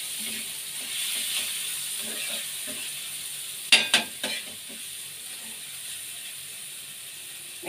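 An egg roll fries in a pan, giving a steady bright sizzle throughout, broken by a few sharp clicks and scrapes of a utensil near the middle.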